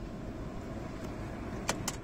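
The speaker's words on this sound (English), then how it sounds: "and the car dies" A low, steady engine rumble from an Audi 5.2L V10 with a faulty electronic throttle body runs close, broken near the end by two sharp clicks as it stalls out.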